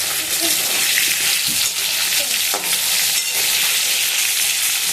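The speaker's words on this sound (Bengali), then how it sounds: "আর এই আলুটাও ভেজে নিচ্ছি লাল লাল করে।" Potato pieces deep-fry in oil for a chicken curry, giving a loud, close, continuous sizzle with intermittent stirring scrapes and clinks.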